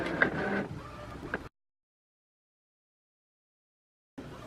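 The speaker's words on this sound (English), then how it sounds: "it is printing much faster than the 1430" An Epson P400 photo printer runs its print mechanism with a whirring, clattering mechanical hum, then cuts to silence before the sound resumes briefly.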